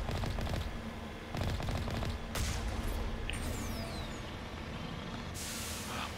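The Mako vehicle in the Mass Effect video game fires rapid bursts of gunfire over a constant low engine rumble, with short pauses between volleys and a brief hiss near the end.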